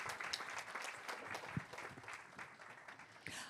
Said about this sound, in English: Another big round of applause for our Visualise Your Thesis champions.